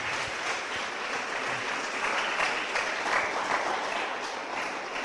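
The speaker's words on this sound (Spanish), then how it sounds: "Dale una ofrenda de aplauso al Señor." Church congregation applauds during a sermon, loud, dense and sustained clapping filling the room evenly for several seconds.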